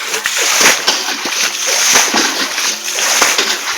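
Water splashes repeatedly in a shallow, drying pond as fish are grabbed by hand without a net, busy irregular sloshing and splatter close by, with voices faintly mixed in.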